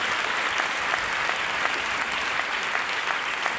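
An audience at a town meeting in Hazaribagh claps loudly for a presenter. The applause is dense and steady, filling the whole stretch with no talk over it.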